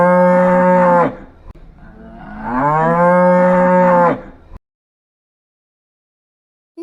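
Cow mooing on a farm in two long, loud, drawn-out calls, each held for several seconds with a short pause between, then silence.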